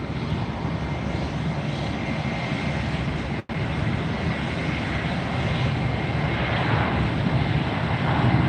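JetBlue jet airliner in FDNY special livery at Fort Lauderdale International Airport, a loud steady engine roar filling the air, continuous apart from a momentary dropout, no talking.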